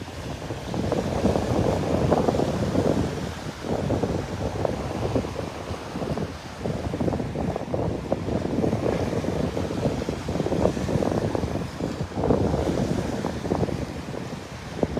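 Wind gusts across the microphone on the beach at Delnor-Wiggins on a chilly morning, a constant buffeting roar blended with surf, loud and close throughout with no talking.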